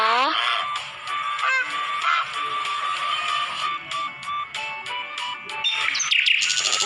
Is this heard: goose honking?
yes